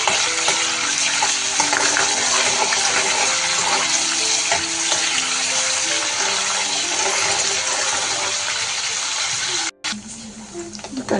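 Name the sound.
paneer pieces frying in hot oil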